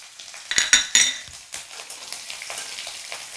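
Garlic, ginger and green chili fry in a pan with a sharp sizzle, while a metal spoon scrapes and clinks against the pan several times early on before the frying settles into a softer, steady crackle.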